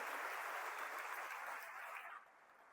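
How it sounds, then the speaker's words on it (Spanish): A church congregation gives a strong round of applause, dense and even for about two seconds before quickly dropping away to a faint tail. "Dale un fuerte aplauso, gracias Edgar."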